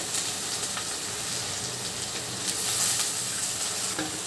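Onions sizzle in a pan for an egg and dry prawn curry, a dense, even hiss close up. Faint crackles and stirring sounds run through it, with no talking.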